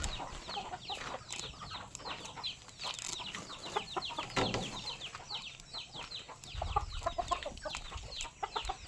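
Chickens clucking steadily in a farm setting, dense overlapping clucks and short calls at moderate distance, with a low rumble near the end and no clear speech.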